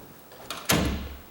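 A tall door is pushed shut against its strike plate, giving a soft creak followed by one firm, close knock and a brief rattle, heard alone.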